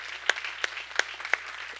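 A church congregation clapping hands in praise, four evenly spaced sharp claps with a faint murmur of voices between them.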